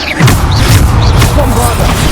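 Booming spell explosions from the video game Hogwarts Legacy, loud and close, bursting repeatedly over dense game sound with some voice mixed in.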